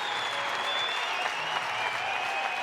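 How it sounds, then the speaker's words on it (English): A baseball stadium crowd during an NCAA game between Arkansas and Florida rises to its feet, sending up a steady, dense wave of cheering and clapping that holds at an even level throughout, with no clear voices standing out. "The crowd coming to its feet."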